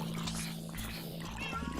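A cat meows in Minecraft, a short in-game mew heard over a steady low hum of game background sound.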